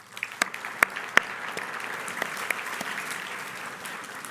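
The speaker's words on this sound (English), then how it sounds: "Please give another round of applause for Cal Chamber." An audience at a transportation summit luncheon claps, with a few sharp individual claps standing out before the applause settles into a steady, moderate patter that continues throughout.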